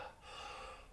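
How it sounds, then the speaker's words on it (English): One slow, deep breath is drawn audibly during a bioenergetics release exercise done in a held posture. It comes as a soft, airy rush, quiet and close, with no talking. "you breathe deeply enough and make a little bit of sound so that you can hear yourself breathing"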